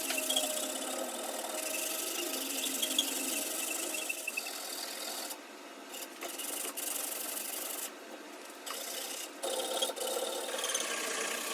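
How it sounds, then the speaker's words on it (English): Steady rhythmic scratching of sandpaper rubbed back and forth over wood, close and continuous with brief pauses between strokes. "wrap the sandpaper around it, creating a flat surface that I can use to sand all these pieces"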